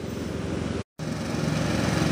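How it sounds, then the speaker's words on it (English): A lawn mower drones steadily close by while mowing a yard, its engine note continuous and loud apart from one brief cut. "I mowed one side of the house, she's mowing the other."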